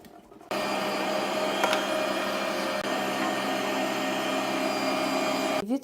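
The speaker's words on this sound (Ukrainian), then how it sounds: "Мелимо цибульку, теж два рази з часничком." An electric meat grinder runs steadily as it grinds onion with garlic, a loud continuous motor whir with grinding texture that starts abruptly and cuts off near the end, with no talk over it.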